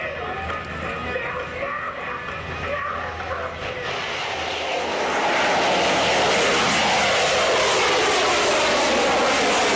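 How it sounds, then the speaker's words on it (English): A plane takes off with rocket assistance, its engine roar swelling into a loud, continuous broadband blast that grows and holds steady, dominating everything else. "This plane took off with help of rockets attached to it."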